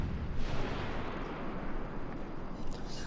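Dense, rumbling naval gunfire in a warship video game, with shells firing and striking a Bismarck battleship, a continuous low boom and crackle with a few sharper impacts and no voices.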